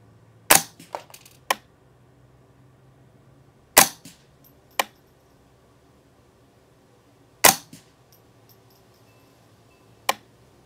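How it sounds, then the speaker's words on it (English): Suppressed rifle fired with CCI standard ammunition and a can mounted, sharp isolated shots at uneven intervals with quieter follow-up clicks between, close and loud against a quiet background. "I'm gonna go ahead and shoot 3 3-shot groups with CCI standard."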